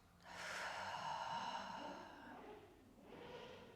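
A deep, breathy exhale during a breathing exercise, a long airy rush that fades, then a second softer breath after a short pause, quiet and close.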